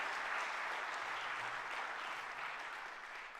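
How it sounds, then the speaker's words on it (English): Audience applause at a State of the City address, a distant, fairly faint and continuous clapping that carries on evenly throughout. "Let's give those guys a round of applause."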